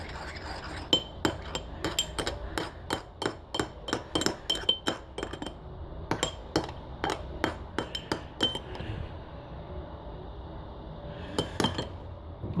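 Utensil clinking against a glass bowl while mixing ingredients for a slime-style recipe, a rapid run of sharp, close taps in a steady rhythm, pausing briefly and then resuming before trailing off.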